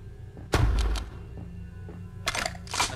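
Gunshots in an online multiplayer video game: a heavy booming shot, then two sharper cracking shots close together near the end, over a low background hum.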